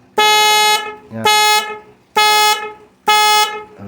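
A stock car horn blasts four times in a steady rhythm, each loud, close toot lasting about half a second with short gaps, after a brief word from a man.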